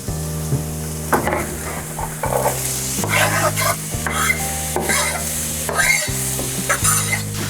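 Onions frying in a pan for prawn chow mein, with a steady sizzle and repeated scraping stirs, alongside a constant musical background.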